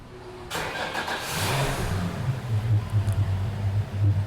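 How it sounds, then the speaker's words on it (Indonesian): A Yamaha outboard boat engine at a marine workshop in Bali starts up with a sudden burst, then settles into a close, loud, throbbing idle with a pulsing low rumble. "apakah kita bisa menyalakan mesinnya Pak? Bisa, mari kita hidupkan."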